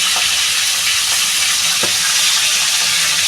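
Tengra fish sizzle loudly in a frying pan, a steady dense hiss of hot oil with faint stirring clicks, continuous and close.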